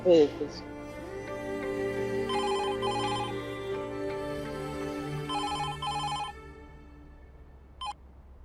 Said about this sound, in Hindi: हाँ हाँ बिरजू, मैं अभी फोन लगाता हूँ।